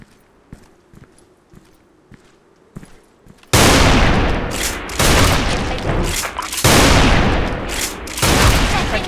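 Barrett sniper rifle shots in Special Force 2, fired through a concrete wall: after a few quiet footsteps and clicks, a loud booming blast erupts and is followed by a rapid series of heavy, reverberant shots close by.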